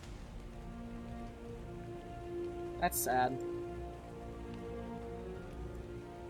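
Steady rain falls in the ARK survival game, a constant hiss running throughout, while a voice briefly speaks over it midway.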